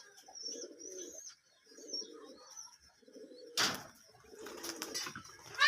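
Rajshahi Giribaz pigeons give soft, throaty coos in repeated short phrases, close and clear, with a brief rustle or flutter of wings partway through and faint chirps behind.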